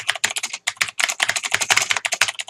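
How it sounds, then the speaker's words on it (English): Rapid, steady typing on a full-size computer keyboard resting behind a 3M gel wrist rest, with dense close-up key clicks in uneven bursts and no speech. "you can see I'm typing away with no problem"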